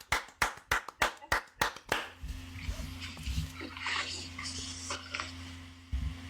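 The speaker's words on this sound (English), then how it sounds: "just round of applause for that" A few people in a podcast studio clap for a breast cancer survivor, about nine sharp, close claps in quick succession that stop abruptly, followed by a quieter stretch with a low hum and light voices.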